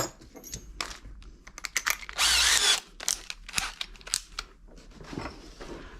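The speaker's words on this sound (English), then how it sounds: "This will drill much quicker because it's" A power drill bores an 8mm hole while fitting a hardware kit to a Proboat Sonicwake V2 RC boat, a loud steady whir lasting under a second amid close clicks and handling noises.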